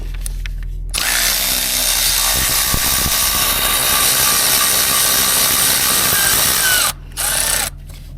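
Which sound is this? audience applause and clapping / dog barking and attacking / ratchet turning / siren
ratchet turning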